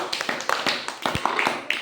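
Children clap their hands in a classroom, a quick run of uneven, close claps over about two seconds, irregular rather than in unison.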